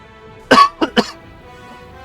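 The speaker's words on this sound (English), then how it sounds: "Excuse me, my cough." A man coughs once sharply, followed by two quick smaller coughs, close and loud against a quiet background.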